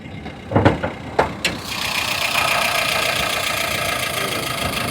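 Hyundai i10 (2006 or 2010 model) engine cranking with a few sharp starter bursts, then catching and settling into a steady, fairly loud idle that runs to the end.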